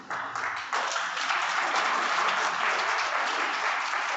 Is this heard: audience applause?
yes